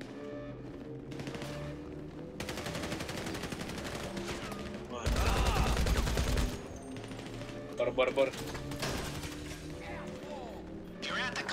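Gunfire in Grand Theft Auto V during a heist mission, repeated bursts of rapid automatic shots with a loud, dense volley in the middle and scattered cracks later, under game music and players talking.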